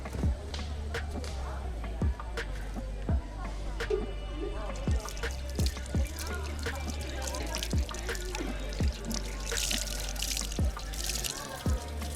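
Water poured and trickling over a Shiva lingam at a Hindu temple in Val-Morin near Montreal, Canada, with repeated splashing drips under a steady low rumble while a person talks throughout.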